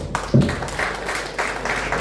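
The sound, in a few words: audience applause at Lions Club get-together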